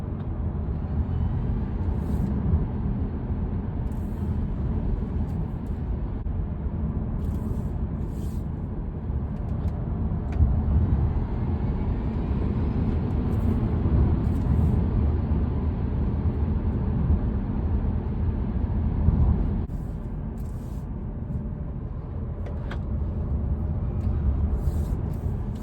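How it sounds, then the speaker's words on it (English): Steady broadband road and tire noise inside the cabin of an electric car, an Ioniq 5 SEL or Kona Electric SEL, while driving, a continuous low rumble that holds for the whole stretch with no talking. "It's definitely not the quietest cabin. There's a lot of road noise coming through."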